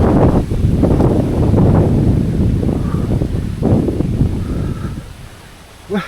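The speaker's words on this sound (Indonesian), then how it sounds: "Anginnya kencang banget" Strong wind buffets the microphone beside a cornfield in a forested rural Javanese village, a loud continuous roar with gusts that rises and falls, then eases near the end.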